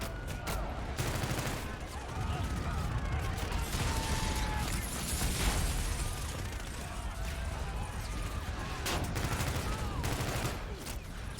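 Gunfire from a Call of Duty: Infinite Warfare battle with troops landing, dense rattling bursts and sharp cracks over continuous explosive noise and mechanical clatter, with shouted game voices mixed in.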